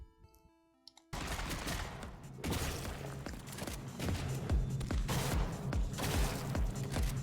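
Dense, sustained gunfire from the video game Shotgun Cop Man, with rapid overlapping shots and booms forming a loud, continuous barrage after a brief quiet opening.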